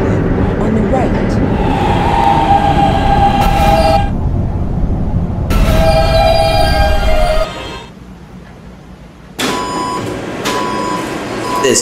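Roblox subway D train on the 5th Avenue Lines, loud steady rumble of the running train with bright tonal tones that cut in and out in bursts, a recorded announcement voice heard over it.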